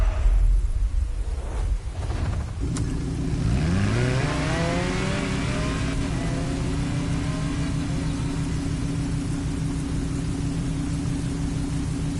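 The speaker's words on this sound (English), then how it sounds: "The Accolone by Genti Automobile" A Genty Akylone supercar engine at Motorfest in Portugal starts with a low rumble, then revs up in a rising roar and holds a loud, steady drone close by.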